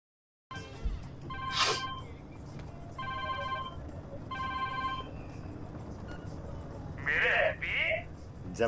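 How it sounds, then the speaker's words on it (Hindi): A phone rings in a film scene, with electronic ring bursts repeating at a regular rhythm over low background rumble, and a voice is heard at the end. "अरे आपका फोन आ गया।"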